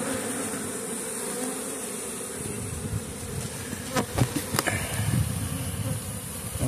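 Africanized bees swarm around an open hive, a dense steady buzz close by that holds throughout, with a few brief knocks and rustles near the end.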